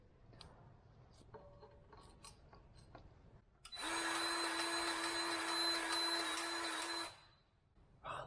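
A grease gun runs for about three seconds in a steady mechanical whir, pumping grease through fittings on farm harvest equipment, with light clicks and handling noises before and after.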